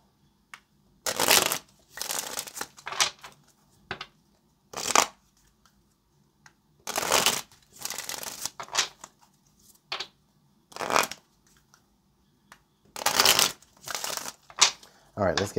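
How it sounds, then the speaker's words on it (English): Repeated bursts of tarot cards being shuffled, crisp riffling flurries of a second or two separated by short pauses, close and fairly loud. "I wanted to make sure these cards were good and shuffled"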